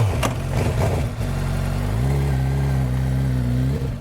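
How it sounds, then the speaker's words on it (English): A 600 Super Sport motorcycle engine accelerating hard, loud and close, with throttle blips at first, then a long steady rising drone before easing off at the end, no voices. "Let's take this bike for a spin."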